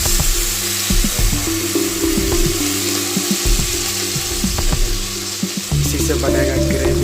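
Cashew, onion and tomato paste sizzles and sputters as it is sautéed for a dhaba-style gravy, a steady close frying crackle with stirring scrapes throughout.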